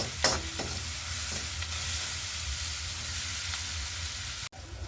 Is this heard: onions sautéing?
yes